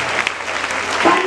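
Applause breaks out among a congregation at a church sermon during a consecration week service, a steady wash of clapping over the full stretch with some voices rising near the end.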